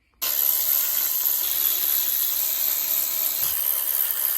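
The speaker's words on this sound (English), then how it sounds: "let's go ahead and unbolt the rest of the things that are bolted to the side and the front of this" A power tool, likely an impact wrench, starts abruptly and whirs steadily while unbolting engine bolts on a Mitsubishi Montero during a spark plug change, loud and close with a slight shift partway, no voices.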